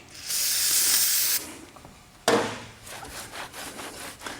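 Tire dressing hisses from a spray can onto the tires of a Porsche 997.2 GT3 RS on BBS RE-MTSP wheels: one sustained spray burst, a pause, then a second sharper burst fading into rubbing and scuffing.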